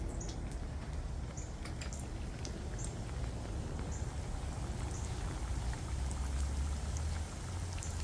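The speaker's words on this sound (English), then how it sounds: "this is our roat we're frying" A thick Indian roath sweet fries in oil on medium heat, giving a steady, quiet sizzle full of tiny bubbling pops and crackles that runs without pause for several seconds, with no one speaking.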